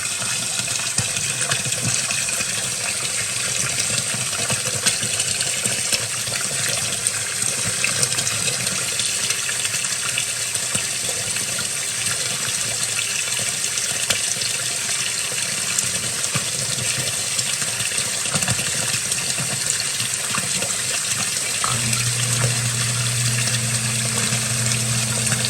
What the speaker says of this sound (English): just pulling that water out of there